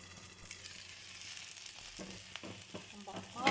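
Uttapam fries in ghee on a pan with a low, steady sizzle, broken by a few short scraping or stirring knocks, and a brief louder crackle near the end.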